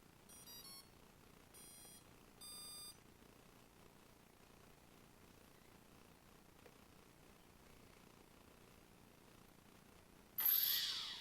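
CX20 quadcopter electronic speed controllers give three short bursts of high electronic beeping early on, faint and close, followed by near silence and a brief rushing burst at the end.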